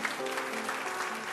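A congregation claps during a sermon in a church, a brief, dense burst of applause with no speech over it.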